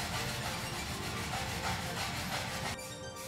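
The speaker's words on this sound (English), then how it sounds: "so I start grinding that out." Continuous harsh, gritty grinding against the hard surface of a 3D-printed scale model submarine hull, steady and close, with a rasping texture that cuts off abruptly near the end.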